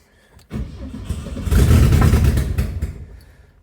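A 1972 Saab 96 with a V4 engine and a carburetor fault, found in a barn, cranks and catches. It rises into a loud, rough rev, holds briefly, then sags and fades, all close up.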